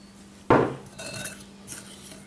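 Biscuit dough with butter and milk is mixed in a bowl: one sharp utensil knock against the bowl, then soft scraping and light clinks, quiet and close.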